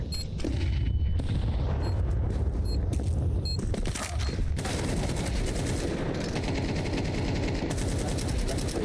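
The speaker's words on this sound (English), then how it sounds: "I'm throwing a flashbang." Gunfire bursts and explosive booms from a Counter-Strike 2 match, including a flashbang grenade, fill the clip loudly and continuously, with dense rapid shots and a heavy blast partway through.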